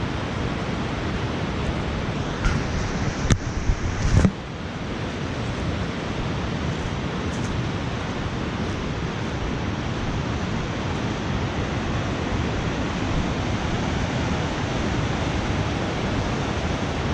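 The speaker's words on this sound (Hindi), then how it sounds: "और यहाँ पे आप पानी का शोर सुने, यकीन माने बहुत ज़्यादा शोर आ रहा है।" Fast, high-speed river water far below a high vantage point in a Kashmir village roars as a dense, unbroken rush, loud and constant with no voices, broken only by a couple of brief knocks early on.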